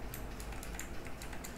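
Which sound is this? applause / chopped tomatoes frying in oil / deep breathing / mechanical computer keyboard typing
mechanical computer keyboard typing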